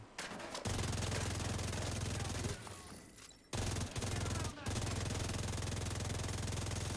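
Sustained automatic gunfire in the video game Division 2, a rapid continuous burst from a firefight in cover, broken by two short gaps; loud and close, mixed with a low game rumble.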